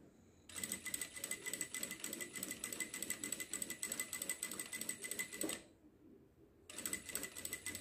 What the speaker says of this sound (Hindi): यहाँ पे मैं ऐसे बैक सिलाई कर दूँगी दो बार बैक सिलाई कर दूँगी